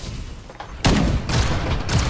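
Shotgun fire in the battle royale game Farlight 84: a quiet lead-in, then loud, close blasts in quick succession that merge into a sustained roar of gunfire.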